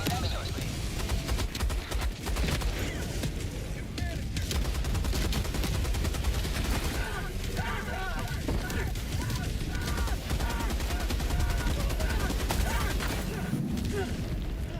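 Orbital napalm strike called down during a hardest-difficulty Helldivers 2 mission, a dense, continuous roar of explosions and gunfire that stays loud throughout, with voices talking over it.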